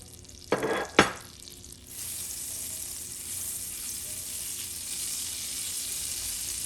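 Butter melting in a pot already warm on a medium stove, opening with two sharp clinks of utensil against pot, then a soft, steady sizzle that settles in and holds at low volume.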